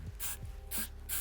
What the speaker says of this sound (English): I'm gonna spray this just very lightly